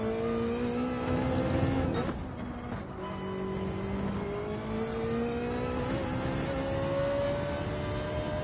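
A race car in Gran Turismo 7 comes off a hairpin in third gear. Its engine note climbs steadily under acceleration, dips briefly at a shift, then rises again as a continuous, loud, close whine.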